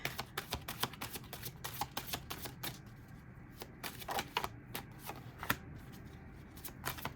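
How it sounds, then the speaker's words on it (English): Tarot cards being shuffled during a reading, a close run of crisp riffling flutters and slaps in bursts, alone without speech. "I'm going to pull 3 cards for the base spread, 3 cards for clarifier."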